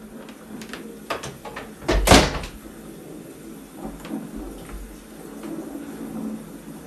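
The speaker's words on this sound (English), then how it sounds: "I'll close the door." A door swings shut with a single firm thud near the middle, set against a quiet indoor room with faint scattered creaks and bumps and no talking.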